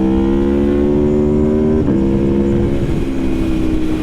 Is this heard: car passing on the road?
yes